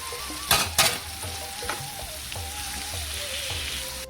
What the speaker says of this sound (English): Stir frying vegetable until it softens.